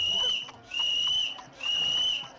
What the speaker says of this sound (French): il siffla 3 fois